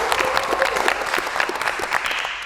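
Audience applause at a music event held in a Surabaya warkop coffee stall, a brief burst of dense clapping from a crowd, fairly close and steady.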